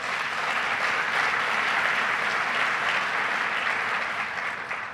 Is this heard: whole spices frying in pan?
no